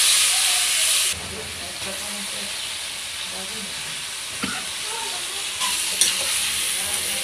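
Mixed vegetable curry with chili and salt sautés in a pan, a loud steady sizzle and hiss with scraping stirs and occasional utensil clinks, with faint background voices.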